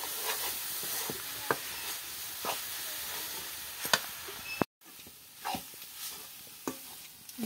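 Flour dry-roasting in a home kitchen pan, stirred continuously until crisp, with a soft hissing bed, scattered scraping clicks of the spoon against the pan and a brief dropout midway; close and quiet.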